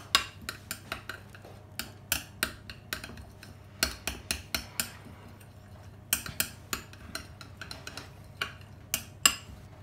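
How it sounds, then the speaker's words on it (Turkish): A dessert spoon stirs a salted sauce in a bowl, giving quick, light, steady clinks close up over a low background hum. "Ve bu şekilde karıştıracağım. Tatlı kaşığımla karıştırıyorum."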